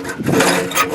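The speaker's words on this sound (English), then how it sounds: "here we are brushing, and as I was saying, this is a nylon brush that works quite well" Nylon flue brush scrubbing up and down inside a chimney flue, a loud, close, continuous rough brushing rasp with slight surges in intensity.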